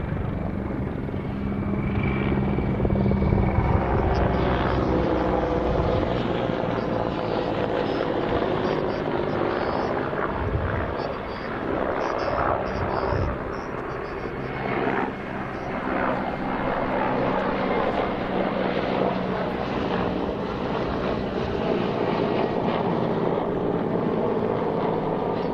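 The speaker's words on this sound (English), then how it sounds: "we're seeing the Mi-171 come in from the other side at the moment" A Mi-171 helicopter arrives at the Royal International Air Tattoo air show, its rotor and turbine roar sustained and loud, swelling and fading slightly as it approaches over open airfield ambience.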